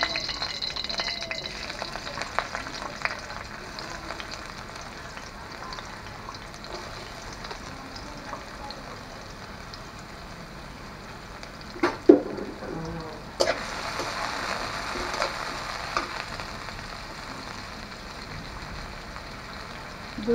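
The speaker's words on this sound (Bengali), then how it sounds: "তেল গরম হওয়ার পরে আমরা দিয়ে দিচ্ছি 2 চা চামচ পেঁয়াজ" Onions frying in hot oil in a pan, a steady close sizzle with a sharp clatter of stirring partway through and the frying continuing after.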